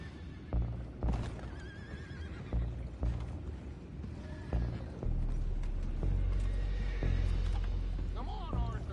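Several whinnies and neighs from horses in Red Dead Redemption 2 ring out over hoof clops and background game ambience, while characters talk over the sounds.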